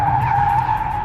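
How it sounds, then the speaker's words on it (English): Tires squeal loudly and steadily as a Hyundai Genesis Coupe slides sideways in a drift, a close, sustained screech with engine rumble underneath. "high yaw events, or basically what we like to call drifting"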